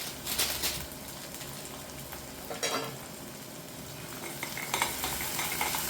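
Crushed garlic, ginger and cumin sizzle in hot oil for a spicy cauliflower curry, a crackling close fry with intermittent stirring scrapes and brief louder spatters.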